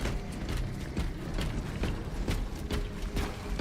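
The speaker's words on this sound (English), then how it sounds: "Reloading." Bolt rifle being reloaded in the video game Warhammer 40,000: Space Marine 2, a dense run of metallic mechanical clicks and ratcheting clacks, loud and close over steady game background noise.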